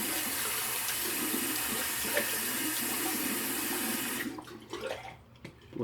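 A bathroom tap runs steadily into a sink to warm a razor blade before a shave, a loud continuous hiss of water that cuts off near the end, leaving a few small drips and clinks.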